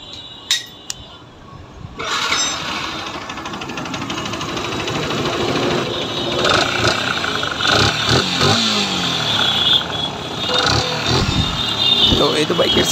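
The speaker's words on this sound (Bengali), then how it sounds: "আমাদের সামনে যে বাইকটা দেখতে পাচ্ছেন এটা হচ্ছে R15 ভার্সন 2। তো এই বাইকের সাউন্ডটা একটু" Yamaha R15 version 2 motorcycle engine running with a suspected clutch-side fault, a steady close mechanical drone with light metallic clinks after a brief quiet start, with some talk faintly over it.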